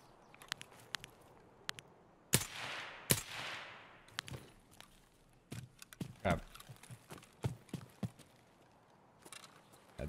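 Sharp DMR rifle shots in Escape from Tarkov, a scattered series of dry, snappy cracks at irregular intervals, some louder bursts with a hissing tail, over quiet ambient game sounds and soft footstep-like clatter.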